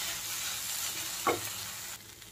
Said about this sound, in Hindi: तो इसको हम 5 सेकंड तक ऐसे चलाते रहेंगे।